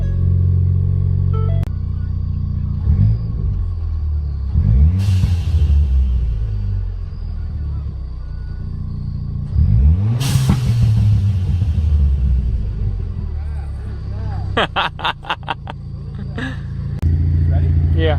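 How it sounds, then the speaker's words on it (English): Ford Fiesta ST with a big turbo, 3-inch catback and stock downpipe, its exhaust rumbling at idle with several sharp revs and crackling burbles, while people talk nearby. "One tune with the burbles. That's the other sounds. Also, guys, this is a 3-inch catback and stock downpipe."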